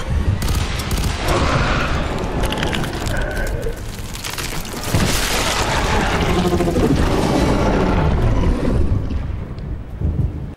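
Heavy, continuous gunfire at an enemy in F.E.A.R. 3 keeps up loud and dense throughout, mixed with booming blasts and rumbling game effects.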